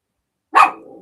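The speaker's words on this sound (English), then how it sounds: "We don't want to hear doggies barking." A single sharp, loud bark from a terrier dog rings out close by after a moment of silence, trailing off into a short tail.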